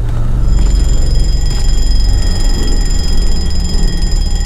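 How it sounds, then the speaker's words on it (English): Alarm going off in the horror video game Inmates, a loud continuous electronic ringing tone that sustains steadily throughout with low rumbling underneath, no talking. "now I wish I had explored past this stupid alarm"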